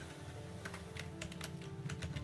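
Computer keyboard keys clatter in quick irregular bursts as a code comment is typed, close and fairly clear over a low steady hum.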